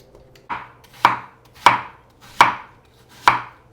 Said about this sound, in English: So we just need to core, peel, and chop about 24 apples.